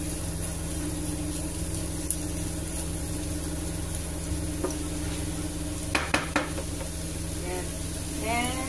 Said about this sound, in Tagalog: Mekos na din natin.